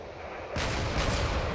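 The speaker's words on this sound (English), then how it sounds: "There's just way too much cannon fire coming in." Cannon fire hammers a battleship in a video game: a quiet lead-in breaks into a dense, loud barrage of blasts that keeps going to the end.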